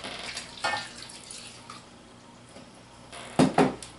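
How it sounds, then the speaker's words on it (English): Cold water poured into a mixing bowl of cupcake batter ingredients, coming in a few short splashing bursts near the start and a louder pair of pours toward the end, close and clear with no talking. "We're going to pour 2 cups of cold water over top of this."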